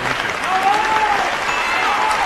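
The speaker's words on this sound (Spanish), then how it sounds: "Ovación total." An audience at a live concert performance gives a loud, dense ovation, the applause a steady wash from start to end with a faint sustained tone beneath.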